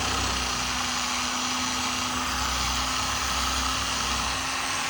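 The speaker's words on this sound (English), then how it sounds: "let that sander do some of the work for me" An orbital sander runs on steel wool against a chrome stove part, a continuous close buzzing whir with an even, unbroken tone.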